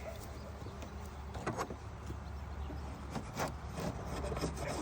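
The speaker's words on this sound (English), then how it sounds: "scrape the propolis off of the box" Someone outdoors scrapes propolis off a wooden beehive box with a tool, making repeated rough scraping strokes under a steady background rumble.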